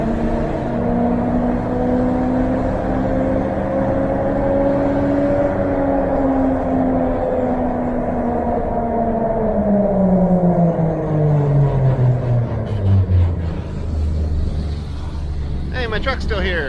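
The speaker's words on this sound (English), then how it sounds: "Jeep's running nice and cool" Jeep on tracks with its engine running in snow, a loud steady drone whose pitch slowly rises then sinks as revs shift, with a voice speaking over it near the end.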